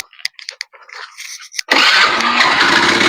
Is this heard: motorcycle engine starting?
yes